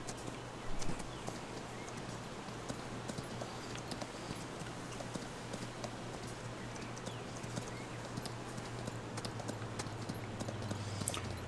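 In Farming Simulator, a horse's hooves clip-clop in a steady walking rhythm on a road, close and even, over a constant low background hum.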